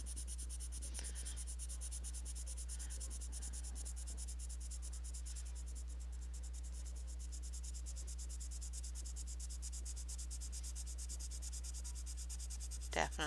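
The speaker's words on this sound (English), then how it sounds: "this is the Derwent blender pencil, and I'm going to see if I can eliminate that white spot that's still in there" A Derwent blender pencil rubs over colored pencil on paper to blend the colors, giving a faint, steady scratching that runs throughout over a constant low hum, with no talking.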